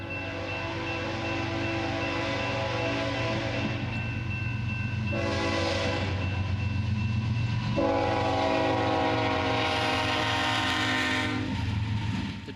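A long CPKC freight train rumbles past close by near Romulus, wheels clacking steadily over the rails, with a sustained horn blaring in bursts throughout.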